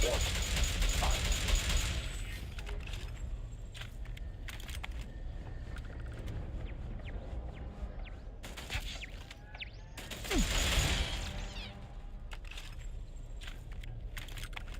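Video game gunfire from a downloadable expansion crackles in rapid bursts alongside keyboard clicks and mechanical clatter, with louder volleys partway through and near the end.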